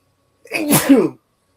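A single sharp sneeze, close and fairly loud, with a quick intake then burst, surrounded by silence.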